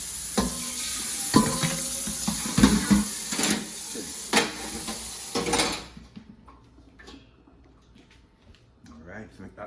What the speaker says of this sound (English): Show this out some cold water running on the sink behind me.